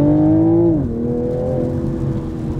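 A 2022 Toyota Supra accelerates up close, its loud engine note holding a steady tone, dipping as it shifts gear, then building again with a droning whir.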